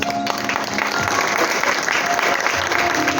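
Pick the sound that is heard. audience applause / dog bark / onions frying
audience applause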